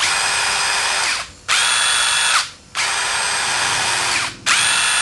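A DeWalt DCF787 impact driver runs at its maximum 2800 RPM setting, whining loudly and steadily up close in three long bursts separated by brief stops.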